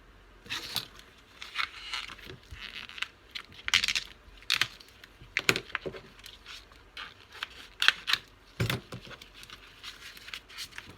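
X-Acto knife cutting paper for an altered-book junk journal, irregular close scraping and clicking bursts with pauses between strokes, fairly faint, with no talking.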